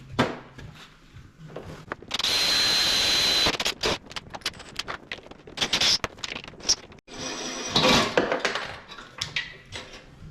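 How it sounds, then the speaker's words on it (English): A power drill whines in bursts while drilling out a bolt on a Mack MC cabover truck, a long steady run near the start and shorter grinding pulses after, with metallic scrapes and clatter close by. "So we're going to attempt to drill this out and see how successful I am"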